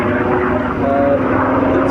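A propeller aircraft engine at the Duxford Flying Legends air show gives a loud, steady droning roar that holds without a break.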